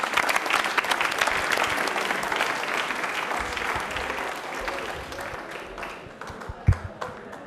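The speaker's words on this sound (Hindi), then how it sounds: "तालियां हो जाए दिलीप के लिए एक बार जोरदार।" A studio audience at a televised quiz programme for Ambedkar Jayanti applauds a student, Dilip, with vigorous, dense clapping that gradually thins and fades, ending with a single loud knock near the close.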